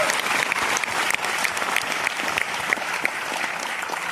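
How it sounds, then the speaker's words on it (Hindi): Loud, sustained clapping from a large audience at a celebratory meet-up for UP Police Constable candidates rises as a dense, continuous burst of many hands close by. "तो एक बार फिर से जोरदार तालियां बजाओ कैरियर के लिए।"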